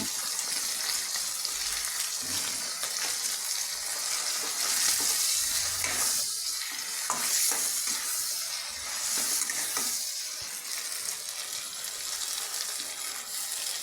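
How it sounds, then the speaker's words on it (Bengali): Ground spices such as chili and cumin powder are cooked down with a little water in a pan while preparing new-potato dal, giving a steady, close sizzling fry with faint stirring scrapes throughout. "সামান্য জল দিয়ে কষিয়ে নিচ্ছি"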